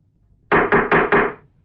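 Four firm, evenly spaced knocks on a door, loud and close, following brief quiet; no talking.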